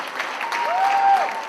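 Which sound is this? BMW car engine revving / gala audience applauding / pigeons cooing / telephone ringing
gala audience applauding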